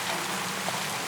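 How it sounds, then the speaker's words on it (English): Steady rain tapping on canvas overhead at a wartime field camp, a dense, even patter filling the whole moment with no voices. "The rain taps steadily on the canvas above"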